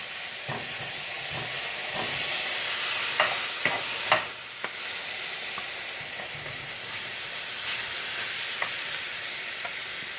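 Pre-cooked meat with its marinade sauce heating in a pan while being stirred for egg rolls, a steady close sizzle with a few scraping clicks from the utensil, no voices.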